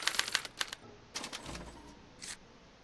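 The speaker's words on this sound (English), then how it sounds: "they're relayed to this special typewriter, which prints out a punch card that represents the subject's mind map" A special typewriter clatters in quick bursts of sharp mechanical strikes, pausing, then rattling again and ending with one last short burst, as it prints out a punch card in an animated Back to the Future episode.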